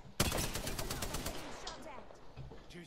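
Rapid gunfire from a shooter video game rings out as a loud burst of automatic shots that tails off into scattered fire, with voices underneath.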